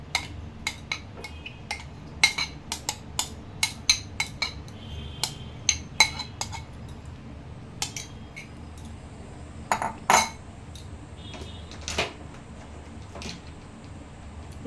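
Mango pulp mixture being stirred in a bowl: a steady series of sharp, close metallic clinks and taps as a utensil strikes the bowl's sides, irregularly spaced over a quiet background.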